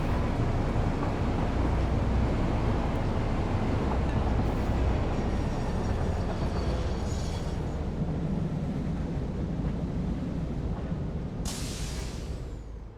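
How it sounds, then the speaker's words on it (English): A train pulls into a station in the factory-building video game Satisfactory, a steady loud rumble of rolling wagons that stays level throughout, with a brief bright hiss near the end. "There's that train."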